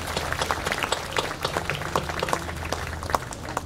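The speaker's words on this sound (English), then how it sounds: "Please give them a warm round of applause." A commencement ceremony audience gives steady, moderately distant applause, with dense overlapping claps continuing throughout.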